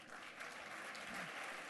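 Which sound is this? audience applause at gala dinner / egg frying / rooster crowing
audience applause at gala dinner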